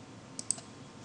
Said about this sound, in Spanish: Hacemos doble clic.